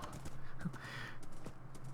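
A horse's hooves in the Minecraft video game clop in a steady, even rhythm, faint and close, over a low background hum.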